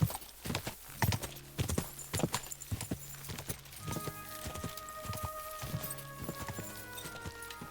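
Horse hooves clip-clop in a steady, close gallop in the video game Kingdom Come: Deliverance II, with a sustained musical tone and soft background sounds behind the rhythmic beats.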